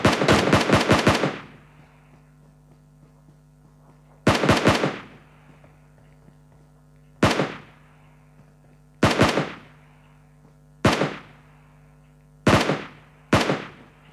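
Gunfire rings out in sharp, loud bursts: a rapid volley of five or six shots first, then single and double shots spaced a few seconds apart, each trailing into a short echo.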